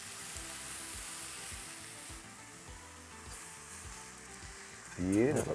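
Farm-picked parsley and coriander sizzle in a frying pan, a soft steady frying hiss with faint stirring, then a louder burst of spitting as the herbs hit near the end.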